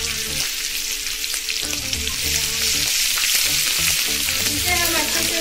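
Steady, loud sizzling of chopped green chili, ginger garlic paste and curry leaves frying in hot oil for mixed dal, with continuous stirring scrapes running throughout.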